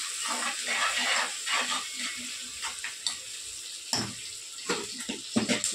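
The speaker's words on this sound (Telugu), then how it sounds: "కొన్ని నీళ్ళు పోసుకుంటాను." Water is poured into rice in a cooking pot, a soft splashing trickle with a few louder pours and clinks near the end, close and fairly quiet.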